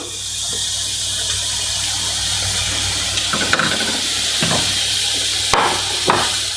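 Hamburger patties, salted on one side, sizzle in a hot pan with a steady close hiss, broken by a few sharp clatters and thuds as patties are placed and flipped.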